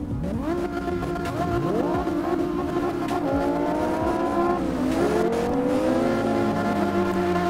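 A Dodge Viper and a Toyota Supra drag racing in the CarX Drift Racing video game, with loud, continuous engine revving that climbs and drops repeatedly through gear changes in a dense, layered drone.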